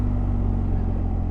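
Deep, steady engine rumble from a BMW R 1250 GS motorcycle with the throttle twisted, close and loud in one short continuous burst.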